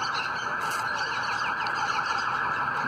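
An ambulance siren sounds in a city centre as a steady, loud wail that carries on throughout, mixed with the dense hum of traffic.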